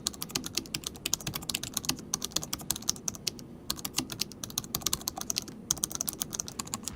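Mechanical keyboard keys clatter in rapid, uneven bursts of sharp clicks, heard up close and alone, with a couple of brief pauses between runs of typing.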